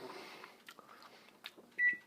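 A microwave oven hums quietly while heating pepperoni slices covered with paper towel, with faint clicks and small rattles, ending in a short high electronic beep.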